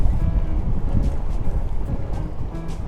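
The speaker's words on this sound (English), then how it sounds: "It's so windy here, I'm sorry for the sound." Strong gusts buffet the microphone beside a large lake with deep, rumbling low-end bursts that rise and fall unevenly, with no talking.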